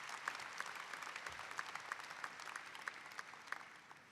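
Graduation crowd applauding university administrators at a May commencement ceremony, a sustained, even wash of many hands clapping in a large hall, somewhat distant, with a few sharper claps standing out and no speech.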